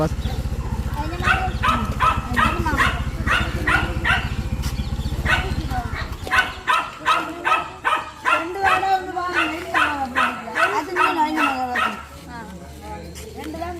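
A dog barks repeatedly in a Jaffna village, first as sharp barks over a low engine-like hum and then as a rapid run of yips and whimpering barks, close and loud, with people talking nearby.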